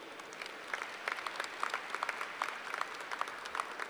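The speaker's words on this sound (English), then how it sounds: "Let's give Squire one more round of applause for his achievements." A crowd at a Murray State University commencement ceremony applauds, a faint, distant patter of many hands with sharper individual claps standing out, no talking over it.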